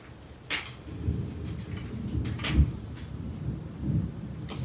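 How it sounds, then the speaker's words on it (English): Thunder rumbling outdoors during a storm, heard from indoors as low, rolling booms that swell and fade over a few seconds, with a louder crack partway through and faint rain beneath. "Thundering outside and my lighting is getting a little bit bad in here."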